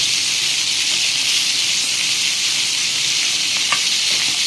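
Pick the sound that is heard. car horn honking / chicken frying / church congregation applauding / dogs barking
chicken frying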